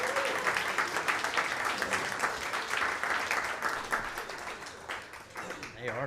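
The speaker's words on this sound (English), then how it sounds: "keep on clapping, don't you stop now" A comedy club audience claps steadily, a dense wash of applause that stays strong for several seconds before tapering slightly at the end; a voice talks over it.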